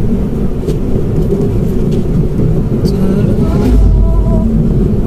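A car engine in manual gear drones steadily through the whole stretch and swells louder near the end, like a rev. It sits close under a constant rumble with no talk.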